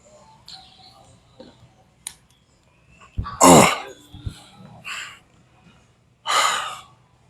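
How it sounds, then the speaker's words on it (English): Heavy, rasping breaths follow Bosu ball squats, with two loud gasping exhalations separated by quieter panting, close and unaccompanied by speech. "I'm out of breath for real."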